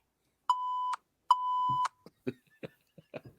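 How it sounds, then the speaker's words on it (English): Two steady electronic beeps sound as a game answer signal, each about half a second long, loud and close, followed by a few short soft clicks and knocks. "you're gonna have to beep twice for sure"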